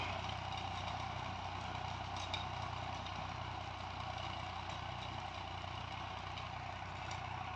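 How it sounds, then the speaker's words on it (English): Massey Ferguson 35 tractor engine labouring under load while climbing a slight hill, a steady, fairly faint low mechanical drone heard from a distance. "You can hear she's under pressure,"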